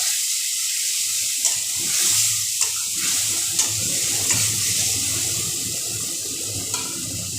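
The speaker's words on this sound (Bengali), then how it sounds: "সামান্য একটুখানি জল দিয়ে দিব কেননা মশলাটা ভালো করে ভাজতে হবে" Water splashes into spice paste frying in a pan for a kangla fish curry, giving a steady close hiss and sizzle with faint stirring clicks throughout, no talking.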